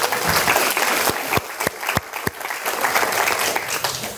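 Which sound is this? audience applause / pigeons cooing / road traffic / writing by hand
audience applause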